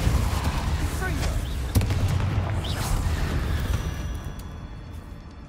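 Spell blasts from Confringo and Incendio in Hogwarts Legacy, a dense run of booming fiery impacts and crackling bursts over constant battle noise, loud and close, fading slightly toward the end.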